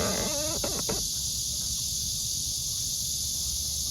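Summer cicadas buzz in a dense, continuous high-pitched drone that stays loud from start to finish, with a short burst of other chirping and voice-like sounds at the very beginning.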